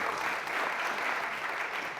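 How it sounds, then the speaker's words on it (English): Audience applause for a panel at a social finance discussion event: steady, dense clapping from a crowd, even and sustained throughout without pause. "Let's give them a huge round of applause."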